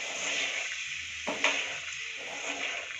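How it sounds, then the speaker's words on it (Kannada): Broken leftover jowar roti pieces being stirred in oil in a pan: a close, steady sizzle broken by a scrape and a knock of the spoon against the pan midway. "ಎಣ್ಣೆಯಲ್ಲಿ ಎಲ್ಲ ಕಲಿಸ್ಕೊಳ್ಳೋಣ"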